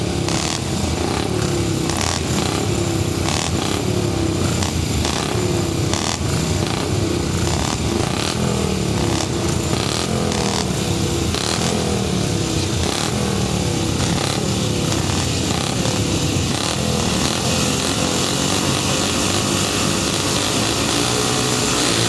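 Grasstrack racing motorcycles in a 375 class race roar continuously for the whole stretch, engines revving and changing pitch as the pack circulates, loud and dense with no voices.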